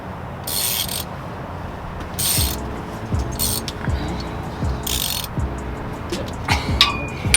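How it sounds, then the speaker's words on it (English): A ratchet wrench is worked during a starter install on a roundbody Chevrolet Silverado in a store parking lot, giving rhythmic low clicking strokes under broadband traffic and outdoor noise, with brief louder hissing bursts. "We're trying to figure out which way the ratchet goes."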